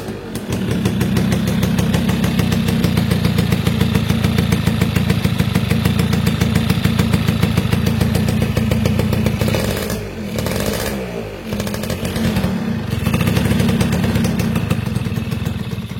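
A 1997 Yamaha F1ZR two-stroke motorcycle idles loudly and close through its original stock exhaust, a steady buzzing, rattling run with a brief dip and recovery in the middle, no voices over it.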